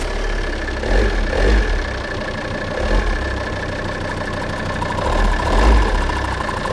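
Diesel engine idling with a knock near the injection pump, heard as a steady low rumble with recurring heavier thumps and a clattering tick running through it, close and alone with no voices.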